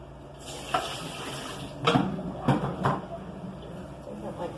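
Water runs and splashes steadily, with a few louder clatters and knocks over it, close up and moderately loud.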